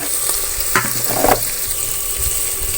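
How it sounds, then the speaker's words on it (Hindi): Chopped tomatoes fry in a pan for restaurant-style chickpea cholay, giving a steady close sizzle with a few louder scraping stirs in the middle and no talking. "अब टमाटर को थोड़ी देर भून लूँगी"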